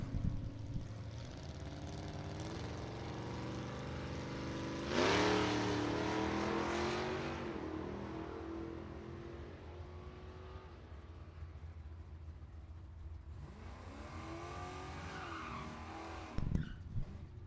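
Two Ford Mustangs, one an 1989 model, launch in a bracket drag race, engines roaring and rising through gears as they pull away, then fading before a distant second surge and a brief loud burst near the end.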